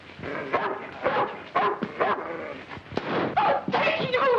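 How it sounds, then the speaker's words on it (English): A dog barks and yips in a film scene, with repeated sharp bursts close by, mixed in with tense overlapping dialogue. "Get rid of that dog."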